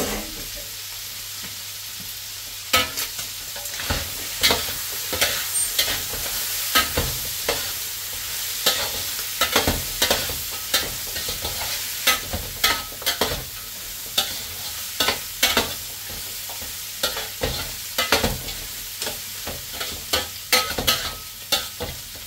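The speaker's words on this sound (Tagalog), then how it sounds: "Okay, haluin na natin siya." Tinola chicken soup being stirred in a pot, a steady run of scraping and clinking strokes over a low simmering sizzle, close and fairly loud with no talking.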